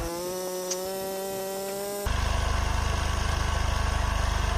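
A car engine idling steadily during an engine flush done with petrol and diesel, a close, continuous pulsing hum that turns rougher and louder partway through, with no talk.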